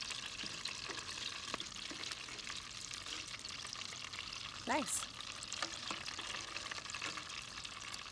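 Mushroom and sweet pea arancini frying in oil give a continuous, even sizzle with small crackles and bubbling, close and moderately loud, with a brief spoken word partway through.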